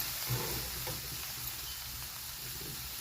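A vegetable curry of radish seed pods is stirred in a hot pan, a continuous close sizzle with soft scraping stirs and no voices.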